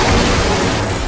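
A flashbang goes off in the Roblox game Attack on Titan Revolution, a loud, dense burst of noise that fills the whole brief moment without any pause.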